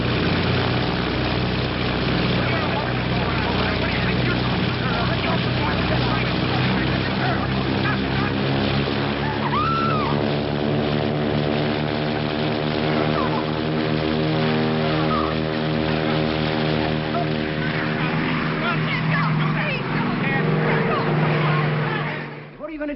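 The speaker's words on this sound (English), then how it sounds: "The airport." Propeller aircraft engines at an airport in a 1957 film, a loud steady droning roar with a slowly shifting pitch that runs continuously for over twenty seconds, with a brief whine partway through.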